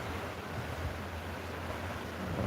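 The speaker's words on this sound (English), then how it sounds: "the sound of the waves" Ocean waves wash steadily against a rocky shore at São Martinho do Porto, a continuous broad rushing surf with a soft wind-like hiss and no voices.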